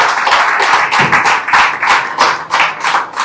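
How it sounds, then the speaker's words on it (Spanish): Loud, close applause from a church congregation, dense clapping with rhythmic pulses filling the space and no talk over it. "Fuerte el aplauso para mis hermanos mientras vuelven a su lugar."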